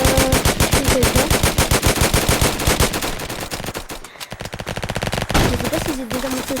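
Rapid automatic gunfire from a Roblox Flag Wars match, loud and continuous bursts of close shots that dip briefly midway before resuming, with game sounds and no talking.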